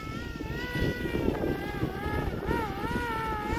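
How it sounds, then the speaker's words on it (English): Heavy wind buffets an outdoor microphone continuously during a Flywing Airwolf RC helicopter flight, a dense low rumble with a steady whining tone running over it. "See the wind blowing it quite heavily along there."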